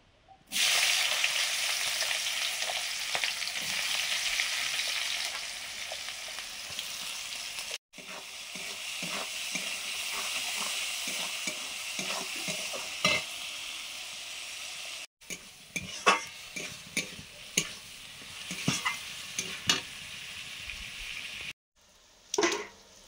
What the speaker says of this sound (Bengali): সয়াবিনটা রান্না করে নেব। সম্পূর্ণ বিরিয়ানিটা ঘিতেই হচ্ছে।